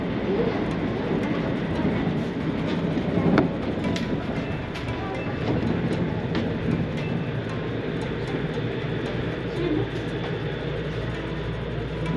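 A commuter train near Kamakura roars steadily through a tunnel, with a dense, loud rumble, faint wheel clatter and occasional sharp clicks throughout, heard from inside the carriage.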